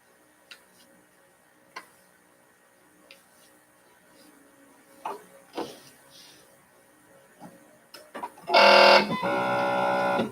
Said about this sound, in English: My Bernina always makes that noise when you first turn it on